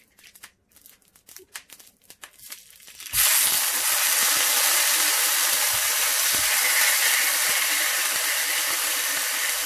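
Tinned burgers dropped into a hot frying pan: a few quiet clicks and rustles, then a sudden loud, steady sizzle that holds for several seconds.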